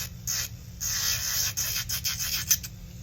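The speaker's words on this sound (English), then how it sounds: "So as you see how the drill snags on the side, that's okay." An electric nail drill files acrylic nails with a high, steady whirring grind, its pitch dipping and breaking briefly as the bit catches and shifts against the nail.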